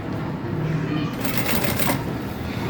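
A sewing machine stitches a seam on a crossbody bag, a steady rapid mechanical whir and needle chatter that runs continuously, close and prominent, with someone speaking over it.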